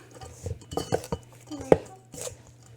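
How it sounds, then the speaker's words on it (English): Utensil clinking and scraping in a bowl while mixing a snack mixture seasoned with pepper, a handful of irregular close taps and scrapes, with faint talk in the background. "We're just going to add a pinch of pepper and we're going to mix this all up"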